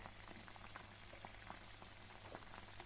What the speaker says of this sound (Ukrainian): І вже закінчую смажити з цибулькою, посолену, поперчену.